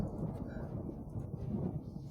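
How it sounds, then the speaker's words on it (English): Rumbling thunder from a lightning storm in the video game Planetbase, a low continuous roll that holds steady throughout without distinct cracks. "But when the lightning hits the lightning rod,"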